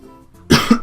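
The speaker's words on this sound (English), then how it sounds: "I'm coughing a lot because I'm not feeling very well today." A single sharp, loud cough from a person with a cold, heard close and alone after a brief quiet moment.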